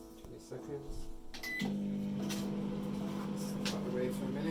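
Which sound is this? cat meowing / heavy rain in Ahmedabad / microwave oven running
microwave oven running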